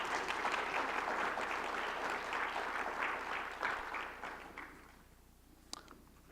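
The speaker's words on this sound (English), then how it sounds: "let's give a round of applause for our panel members this morning" A conference audience at the Appalachian Prosperity Project applauds panel members on the UVA Wise campus, a full round of clapping that thins and fades out near the end, leaving a few scattered claps.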